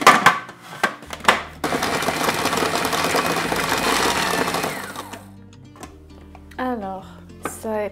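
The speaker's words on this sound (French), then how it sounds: "Quand vous utilisez un mixeur comme ça, il faut vraiment éviter de mettre des morceaux de gras" A food mixer chops homemade cat food paste for a lickimat in loud whirring bursts, starting with short pulses and then a sustained grinding run before it stops, followed by a few scraping knocks.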